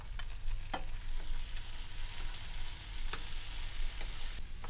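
Chili, ginger, garlic and tomatoes sauté in a pan with a steady close sizzle, punctuated by occasional light scrapes and taps of a stirring utensil, with no voices.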